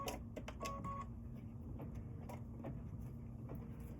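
An embroidery machine stitches a placement line for a foam piece. It makes faint mechanical whirring with quick clicks and taps spaced irregularly through a quiet room.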